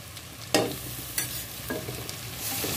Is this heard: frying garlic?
yes